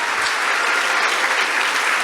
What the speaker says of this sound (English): But first, a big round of applause for Federico Federico Faggin.